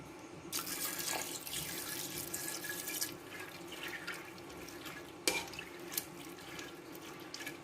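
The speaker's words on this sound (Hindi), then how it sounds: "तो पानी भी थोड़ा सा कम है तो और पानी ऐड करते हैं इसमें" Water pours into a pressure cooker in a home kitchen, a steady soft splashing stream that runs for several seconds at a low level, with a couple of small clinks near the end.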